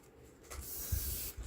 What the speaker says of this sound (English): So I'll spray my paper towel.